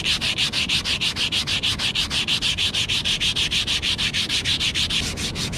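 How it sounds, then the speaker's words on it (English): Sandpaper rubbed back and forth over a piece of wood, a steady rapid rasping stroke repeated about six times a second, close and loud with no voices. "So I'm gonna use this sandpaper. I'm gonna rub this down."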